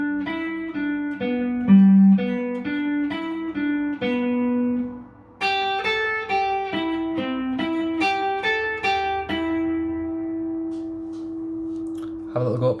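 An acoustic guitar picks out the SpongeBob SquarePants theme melody, clear single plucked notes in a bouncy rhythm, played close with no talking.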